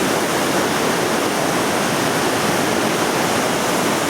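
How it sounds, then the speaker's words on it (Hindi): The Kabul River pours down from the mountains of the Kalash Valley in Pakistan, a loud, dense, unbroken roar of rushing water that stays level throughout, with no talking. "ये दरियाए काबुल बह रहा है और ये जा रहा है इस तरफ।"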